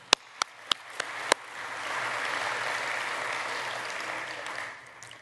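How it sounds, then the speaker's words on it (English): After a few sharp isolated claps, a tech-talk audience breaks into a quick round of applause that swells, holds steadily for a few seconds, then fades out. "So maybe a quick round of applause for them, I reckon."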